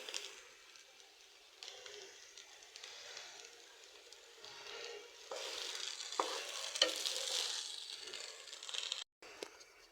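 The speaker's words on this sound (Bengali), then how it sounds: "ভাজাটা প্রায় হয়ে গেছে এখন গরম পানি দেবো পরিমাণ মতো পুরোপুরি ভাজা হবে শব্দ শোনা যাচ্ছে" Khichuri ingredients fry in a pan with a steady, close sizzle and occasional stirring scrapes; the frying grows louder partway through, with a brief dropout near the end and no talking.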